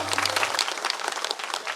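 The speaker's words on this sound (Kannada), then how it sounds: "ಜೋರಾದ ಚಪ್ಪಾಳೆ ಮುಖಾಂತರ" A hall audience at a community building event in Hosakote gives loud, dense applause, many hands clapping close and steadily throughout.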